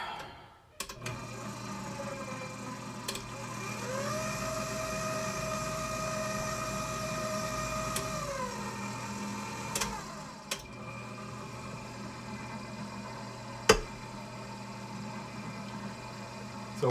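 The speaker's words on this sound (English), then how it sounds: "These KitchenAid mixers, if you read the dough hook label when you get your mixer, you're not supposed to go above setting 2 for the speed" A KitchenAid stand mixer turns over with its dough hook at low speed, kneading sourdough: a steady motor whir runs nearly throughout with a couple of sharp clicks and knocks, fairly quiet and without talk.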